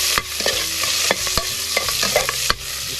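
Onions sauté in a pan for a milkfish sinigang, a spatula scraping and knocking the pan in an irregular rhythm over a continuous close sizzle, with no talking.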